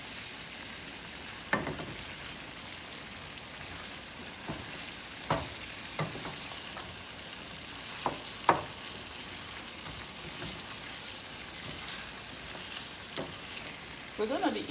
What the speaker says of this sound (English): Stirring until it's evenly mixed.